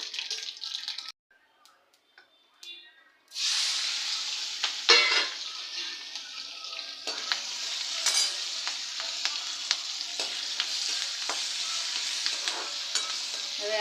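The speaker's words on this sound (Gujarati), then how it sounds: "તો ચાલો આ તતડી જાય એટલે મરચાં નાખી દઉં." Mustard seeds and cumin crackling and sizzling in hot oil in a home kitchen, a dense continuous spitting crackle that starts after a quiet opening and holds steady at moderate loudness with scattered sharp pops.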